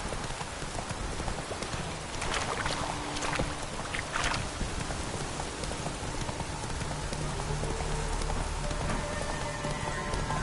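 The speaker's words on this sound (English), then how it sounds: "This downpour's a bastard" Heavy rain falls in a steady, dense wash of noise that stays even throughout, with a few louder splashes and faint background tones mixed in.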